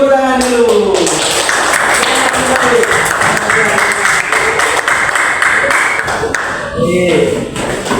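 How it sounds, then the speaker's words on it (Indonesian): A classroom audience of students claps together for a group's presentation, a dense burst of applause with overlapping taps filling most of the span while voices carry faintly underneath. "Kita beri tepuk tangan dulu."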